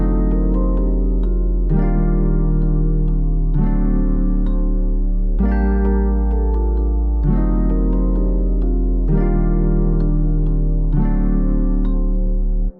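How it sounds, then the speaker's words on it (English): A mellow beat built from an Omnisphere Jazz Guitar Fingers patch layered with electric piano repeats its chord pattern every couple of seconds over a deep, steady bass, warm and continuous with no voices. "I made this beat mostly using this Omnisphere patch, which is a Jazz Guitar Fingers B"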